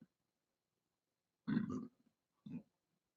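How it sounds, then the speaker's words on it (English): Burps after drinking ginger ale, two low, throaty belches close to the mic, a longer one followed a second later by a short one, in an otherwise quiet room. "Got ginger ale burps."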